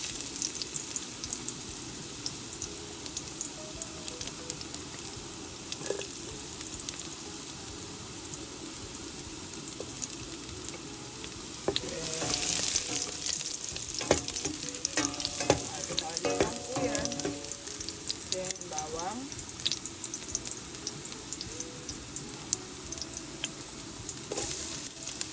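Garlic and ginger frying in hot oil for an Ilocano pinapaitan, a continuous crackling sizzle that swells midway with stirring scrapes and pops, close and alone.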